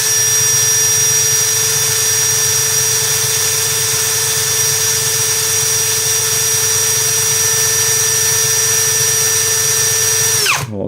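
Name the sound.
DEVETECH CS-45 compact cordless screwdriver running at second speed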